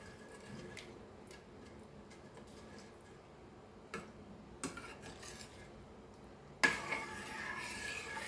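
A spoon stirring prawn curry in a pan, with soft scraping and a few light clinks against the pan, ending in a louder clatter of metal, no talking.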